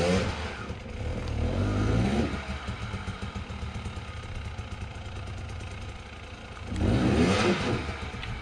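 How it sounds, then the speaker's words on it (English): A dirt bike climbs a steep, cliff-like trail section, its engine revving hard in surges, easing to a lower rumble in the middle before roaring up again, close and loud. "I got Kyle gonna hit this gnarly little section."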